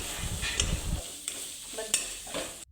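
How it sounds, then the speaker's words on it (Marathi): A spice mixture with finely grated coconut being stirred in a pan for a bitter gourd, lemon and chili pickle, giving soft scraping, sizzling strokes with a few sharp utensil clinks, close and without speech. "त्यात बारीक केलेलं खोबरं टाकून ते मिश्रण व्यवस्थित परतून घ्यायचं"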